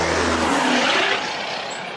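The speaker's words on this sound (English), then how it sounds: "oh, these trucks are loud." Loud trucks roaring past on a Las Vegas street, a close, broad rush of engine and tyre noise that peaks early and slowly fades as the vehicles move off, with no talk.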